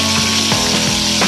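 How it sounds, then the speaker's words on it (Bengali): Rohu fish, about a kilo, frying in hot oil in a home kitchen, giving a loud continuous sizzle with crackling bursts and a few scraping stirs, close up. "এখানে আমরা মাছটাকে ভেজে রেডি করে নিচ্ছি।"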